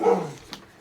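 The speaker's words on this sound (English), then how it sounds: "Apologize for the barking dog." A single short dog bark, fairly close and loud, which fades quickly and is followed by a faint tail.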